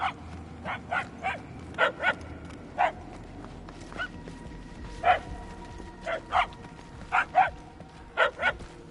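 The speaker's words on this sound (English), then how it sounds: "The barking is getting fainter." A dog barks in the Guardians of the Galaxy video game, a series of about fifteen short, yappy barks in an uneven rhythm, moderately distant over a low ambient hum.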